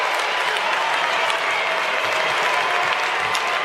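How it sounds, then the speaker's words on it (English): Crowd at an Australian football match, North Melbourne against Richmond, roaring and applauding in a dense, steady wash of noise for several seconds, with no clear voice standing out. "There it is. Listen to the crowd."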